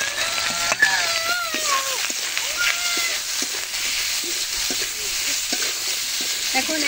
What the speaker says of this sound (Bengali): এখন এর সাথে ভেজে নেব।